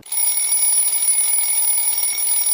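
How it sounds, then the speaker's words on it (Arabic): An alarm clock rings with a loud, steady electronic tone that starts abruptly and holds continuously without pause. "وفجأة المنبه يرن"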